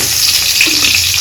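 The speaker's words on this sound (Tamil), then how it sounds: "வெங்காயம் நல்லா வதங்கிடுச்சுங்க," Onions sizzling in a frying pan for a Tamil-style mushroom kulambu, a dense, steady crackle of hot oil heard up close and loud with no voices.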